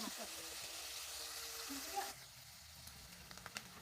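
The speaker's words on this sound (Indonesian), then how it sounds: "Goreng bolak-balik sampai kering ya, atau sesuai selera." Jengkol slices fry in hot oil, a quiet continuous sizzle with a few small pops and stirring clinks toward the end, faint and close with no voice over it.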